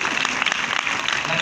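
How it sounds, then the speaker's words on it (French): Audience clapping at a film premiere in Maubeuge, a steady dense patter of many hands filling the room, with voices mixed in underneath. "Allez, on peut applaudir Arthur bientôt."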